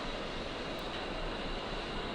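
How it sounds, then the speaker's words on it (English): Steady broadband roar of an A-10C's turbofan engine spooling up in a DCS cold-and-dark startup, a constant whine-laden hum with no talk. "get one of your engine start sequences going, moving that to idle"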